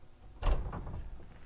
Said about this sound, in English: A pocket door here coming onto the bedroom.